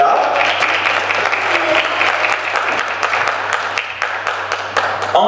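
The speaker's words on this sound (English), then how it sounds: "let's give another big round of applause for all 4 candidates" Dense, steady audience applause for four pageant candidates at the Miss Phenix City Pageant fills the room without a break, with a low electrical hum running underneath.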